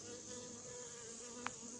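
Hornets and bees buzz faintly at an apiary under a tent, a low continuous drone with one brief sharper wingbeat burst near the end.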